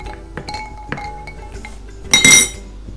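A spoon clinks against a glass while masala shikanjbeen is stirred, with light scattered taps followed by a louder, brighter rattle of rapid clinking near the end.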